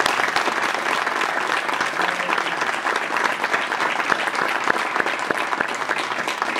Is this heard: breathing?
no